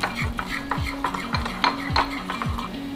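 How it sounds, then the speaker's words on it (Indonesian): A spoon scrapes and clinks steadily in a bowl of batter made from all-purpose seasoned flour and water for fried chicken. The strokes repeat regularly and close by, with no talking. "Lalu diaduk rata."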